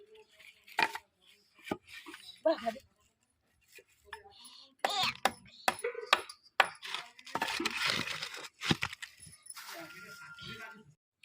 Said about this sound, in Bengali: মাছের মাথাটা আমি কেটে নিয়েছি, এবার লেজের দিক থেকে কিছুটা অংশ এইভাবে কেটে নেব